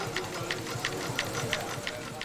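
A model Case steam 60 horse tractor runs with a quick, even chugging beat of sharp ticking puffs, about three per second, faint and mechanical, with a voice present.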